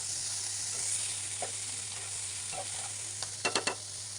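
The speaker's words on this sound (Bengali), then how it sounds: "পটল ভাজার জন্য পেঁয়াজ মরিচ ভেজে নিব" Onions and chilies sizzle in a frying pan for a pointed gourd fry, a steady close hiss with occasional stirring scrapes and a few quick utensil taps near the end.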